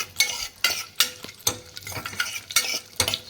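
Sliced onion and a bay leaf frying in a pan alongside cashews, with a soft sizzle under regular metal scrapes and clatters as a spoon stirs, heard up close.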